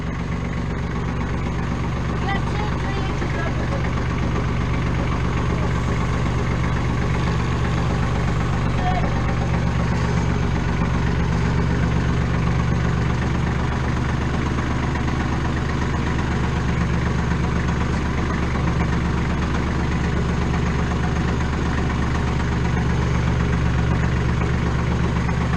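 A farm tractor's engine idles steadily throughout, a continuous low rumble with a deep mechanical drone that stays constant and close, with no breaks or revving.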